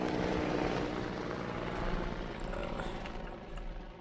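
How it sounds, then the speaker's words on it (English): Helicopter in a Minecraft zombie apocalypse modpack, a steady whirring rotor drone with low chopping pulses that stays loud and close throughout, no voices. "Oh, it's a helicopter."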